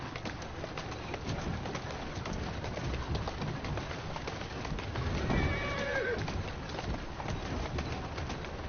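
A horse whinnies in the Assassin's Creed video game, a clear neigh rising midway over a steady bed of hoof clip-clop and carriage rumble, with pigeon-like cooing in the background.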